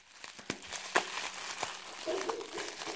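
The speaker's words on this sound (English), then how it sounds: "Let's continue unwrapping" Nail polish package being unwrapped, crisp close crinkling of plastic or paper with small tearing bursts and scattered snaps, light voice sounds faintly underneath.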